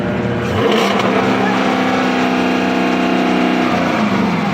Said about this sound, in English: Press the gas and rev it